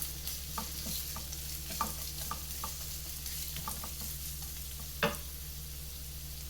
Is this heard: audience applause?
no